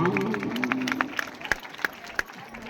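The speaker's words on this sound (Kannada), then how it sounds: "ಎಲ್ಲರಿಗೂ ಚಪ್ಪಾಳೆ ತಟ್ಟಿದ್ರೆ ಸಾಯಿ ಕುಮಾರ್ ಚಪ್ಪಾಳೆ ತಟ್ಟೋದಿಲ್ವಾ" Scattered hand claps from an audience at a stage show during a temple fair (jatra music program), a few sharp claps landing irregularly with a voice talking at the start.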